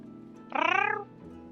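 A cat gives one clear, drawn-out meow, close and fairly loud over a quiet background hum.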